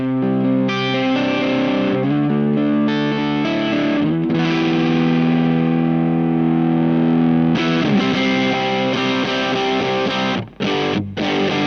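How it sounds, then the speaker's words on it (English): Heavily overdriven electric guitar through a silicon fuzz pedal, playing sustained distorted chords, thick and loud, with brief pauses near the end. "So that's really more like overdrive distortion territory now."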